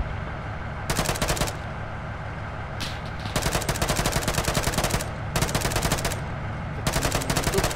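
Sustained automatic gunfire from the Arma 3 military game, loud bursts of rapid machine-gun fire broken by short pauses, repeating in several long volleys with no talking over them.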